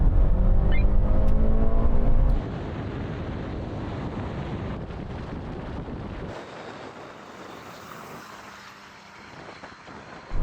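Small cars, including a Mitsubishi, accelerate hard in second gear from 30 mph in a rolling half-mile drag race. A loud engine roar is heavily buffeted by wind noise, then drops to a quieter, wind-filled rush partway through.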